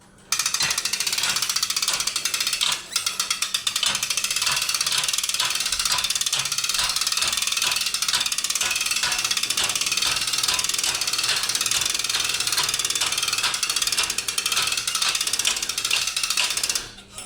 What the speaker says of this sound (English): every crank you do, it's going to lock it in that position until it gets to the top or to your desired height